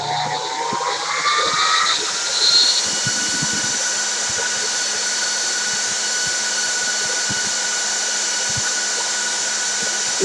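Cooling fans in a Dell PowerEdge 2950 server roar loudly and close up with a steady, high whine that ramps up briefly at the start, then holds constant, with faint clicks.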